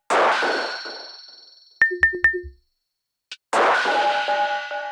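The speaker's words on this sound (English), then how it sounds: "Which are all these drum synth sounds that I kind of tweaked a little bit." Distorted drum-synth hits from drum racks in a hardgroove techno track, loud close clangs and metallic dings in a quick run of three, then a brief click and a resonant ringing tone, with no voices.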